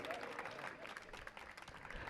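A seated audience at a Jain religious discourse in a hall claps together, a soft, even patter of many hands that is faint and sits fairly far back, with no talk over it.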